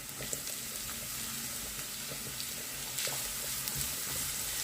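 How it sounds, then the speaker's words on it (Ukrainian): Onions and carrots sizzle and crackle steadily in a pan over high heat, with occasional stirring scrapes and pops. "Засмажку ми смажимо на великому вогні."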